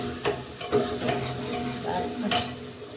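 Tadka tempering sizzles in a hot pan, close and clear, with a few sharp stirring scrapes against the metal over a steady frying hiss. No one speaks.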